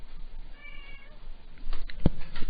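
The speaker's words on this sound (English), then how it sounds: "Say hello, guys. Go meow." A cat gives a faint meow that blends into background noise. Then comes a sharp knock and some louder rustling.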